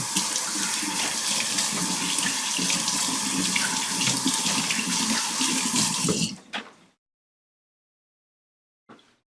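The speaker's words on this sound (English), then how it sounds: "Let me wash my hands real quick." Hands washed under a running kitchen tap during apple pie baking, a steady loud gush of water that cuts off abruptly partway through, followed by silence and a brief faint clink.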